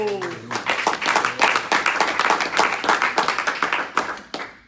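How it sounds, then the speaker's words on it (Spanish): Congregation at a Spanish-language church service breaks into steady applause, a dense run of sharp hand claps that holds strong from start to finish, with a voice briefly heard at the start. "Dale un aplauso a Cristo"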